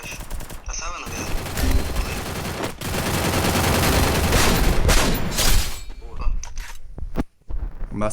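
Rapid automatic gunfire from the mobile battle royale game Free Fire during a squad championship match, dense bursts firing almost continuously for several seconds with sharp close shots, briefly thinning near the end, while players talk over it.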